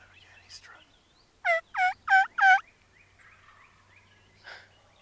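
A big wild turkey tom, strutting in on an archery hunt, gobbles four times in a loud, close, rapid burst of rattling calls, with faint quieter bird calls before and after.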